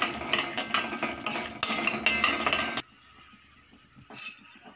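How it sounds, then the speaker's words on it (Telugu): Mustard seeds, cumin, urad dal and chana dal frying in hot oil in a pan give a busy, crackling sizzle with spoon scrapes. After a few seconds it settles to a quieter background hiss. "ఆవాలు వేసుకుందాము. జీలకర్ర, మినప్పాలు, శనగపప్పు వేగనిద్దాం బాగా."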